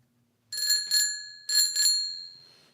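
A purple bicycle bell, received as a gift, rings clearly up close in two double dings, each pair bright and metallic and left to ring and fade.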